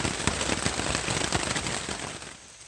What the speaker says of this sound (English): What followed was about 10 hours of torrential downpours.